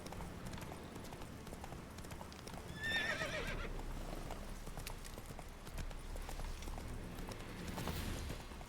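Roach, a horse in The Witcher 3, galloping with steady hoof clip-clop beneath game ambience, a short whinny or neigh rising near the three-second mark.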